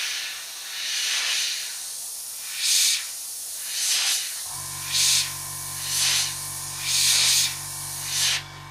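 Airbrush spraying paint along panel lines on a 1/48 Eduard Su-25 model kit at about 30 psi: repeated short hissing bursts in a steady rhythm, close and fairly loud, with a constant compressor hum starting partway through.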